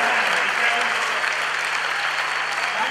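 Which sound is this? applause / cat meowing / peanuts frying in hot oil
applause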